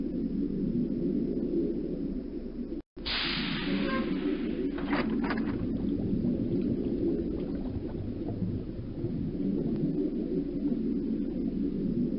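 A whale vocalization in The Magic School Bus Explores the Ocean CD-ROM game: a few brief, wavering moans rise over a steady, rushing ocean rumble.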